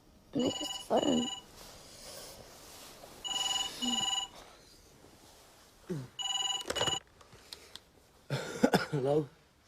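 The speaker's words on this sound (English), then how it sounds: "Nick, it's the phone." A telephone rings in a quiet room at night, with four repeated electronic double-trill bursts spaced evenly a couple of seconds apart, and a voice briefly stirring between rings.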